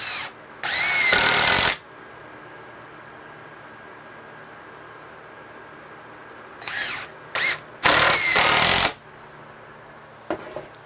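A power drill drives screws through a wooden board for an outdoor swing stand, heard as close, loud whirring bursts: one long run, then several short stuttering pulses and a final brief burst.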